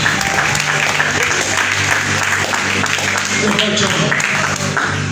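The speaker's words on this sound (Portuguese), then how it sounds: "Palmas para Jesus." Congregation clapping in a Pentecostal evangelical church service in Brazil, a loud sustained round of hands over a steady low musical drone, with a voice speaking faintly underneath.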